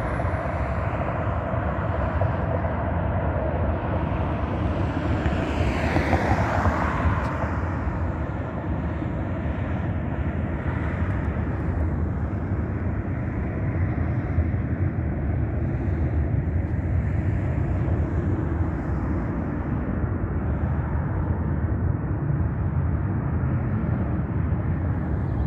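A jet airliner takes off at Harry Reid airport in Las Vegas at sunrise, a loud, steady roar lasting throughout with a rising whine near the start and heavy wind rumble on the microphone.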